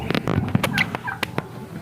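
A turkey gobbles near a family campsite, giving a brief burst of rapid, warbling calls at close range, with faint voices around it.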